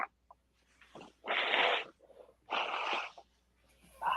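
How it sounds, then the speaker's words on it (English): A person blowing their nose: a few short, breathy, hissing snorts and blows close to the microphone, separated by brief pauses. "Sorry if you hear me blowing my nose."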